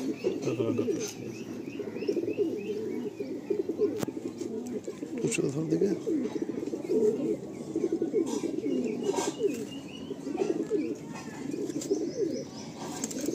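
A Kalanka racing pigeon coos in repeated soft, throaty rolls close by, with light chirps and occasional wing flutters, while people talk intermittently over it.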